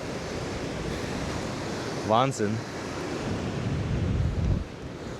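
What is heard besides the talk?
sea waves near a WW2 bunker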